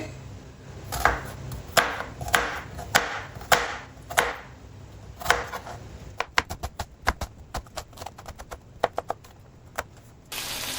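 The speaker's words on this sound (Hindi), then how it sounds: "2 प्याज लिए, इनकी करेंगे कटिंग।" A knife chopping two onions on a board in a home kitchen: steady, close, crisp knocks, slower at first, then a quicker run of sharp cuts, with no talking.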